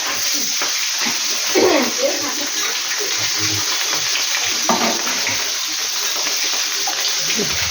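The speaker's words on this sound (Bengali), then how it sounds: "মাছটা ভাজা হোক।" Fish frying in a pan gives a steady, bright crackling hiss close by, with a couple of louder bursts, while a voice speaks intermittently underneath.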